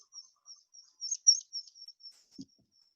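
A migrating bird gives a run of thin, high chirps in quick irregular succession, clear and close against near silence, with a faint low thump near the end.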